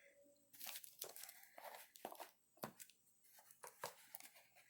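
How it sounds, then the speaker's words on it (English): Scissors slice and tear open a book delivery package close by, a series of quiet crisp cuts and crinkling rips of packaging coming in irregular bursts with short pauses between. "Got my scissors."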